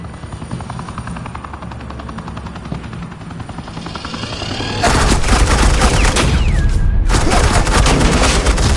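Bursts of suppressing gunfire in the Batman: The Enemy Within video game, a loud sustained volley that erupts midway over a steady helicopter rotor drone, with no voices.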